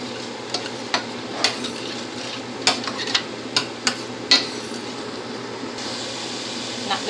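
Spices and garlic frying in a pan with a steady sizzle, while a spoon scrapes and taps against the pot in irregular knocks.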